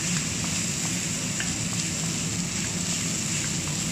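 Chicken and frozen vegetables sautéing in a pan with onion and garlic, a steady close sizzle and crackle with faint scattered pops throughout.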